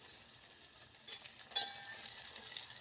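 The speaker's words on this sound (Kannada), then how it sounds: "ಎಣ್ಣೆಯಲ್ಲಿ ಬೇಯ್ತಾ ಇದೆ" Tomato gojju frying in oil in a home kitchen, a close, steady crackling sizzle that swells slightly toward the end, with no voices.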